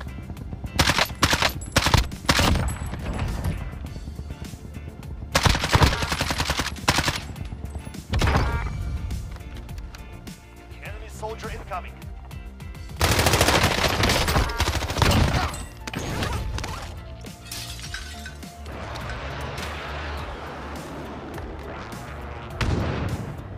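CR-56 AMAX assault rifle firing in Warzone, with repeated loud automatic bursts separated by short pauses, then longer sustained volleys amid game background sound.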